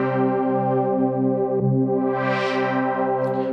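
A sustained synth chord from Korg Gadget on iOS holds for two bars, a steady layered tone with a filter sweep opening brightly midway and a faint tick near the middle, heard alone without talk.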